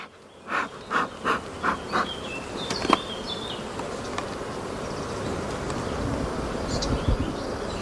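Honey bees on a brood-nest edge frame freshly drawn with bright yellow wax, a steady close buzz running throughout, with a few louder rhythmic pulses near the start.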